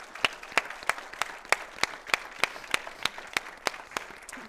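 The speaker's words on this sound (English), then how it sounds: "I would like to ask also a warm applause for the people behind the scene" Rhythmic clapping at a Falling Walls Lab event in Leuven, 2020: sharp, evenly spaced claps about three per second, fairly close and clear over a faint background, with no talking.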